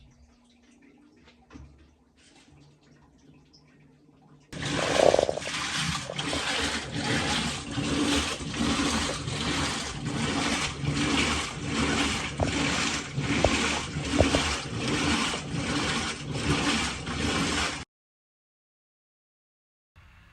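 A Maytag washing machine runs a normal wash cycle, with steady rhythmic swishing and sloshing of water that lasts about thirteen seconds before stopping abruptly into silence.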